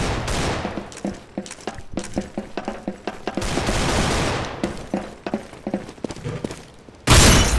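Rapid gunfire in Counter-Strike: Global Offensive, sharp repeated shots in irregular bursts over game background noise, ending with a sudden loud burst of sound.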